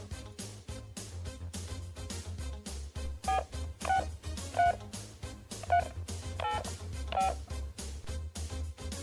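Telephone dialing tones on a radio phone-in show, a series of short beeping DTMF keypresses in uneven bursts over a low background hum, fairly quiet and without talk.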